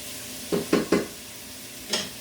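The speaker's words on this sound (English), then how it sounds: "I'm stirring the bacon" Bacon being stirred in a hot pan, a quiet background sizzle with three quick scraping strokes in a row and one more a moment later, close and without talk.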